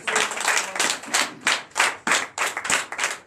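A church congregation claps in acclamation during a night deliverance and prophecy service, loud close bursts of clapping in quick repeated waves with no talk.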